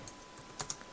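A few quiet keystrokes on a computer keyboard as numbers are entered into a Python list, soft isolated clicks over a faint background hum.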